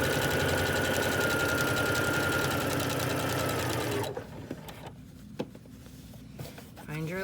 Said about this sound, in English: Back stitch over it to give it some strength.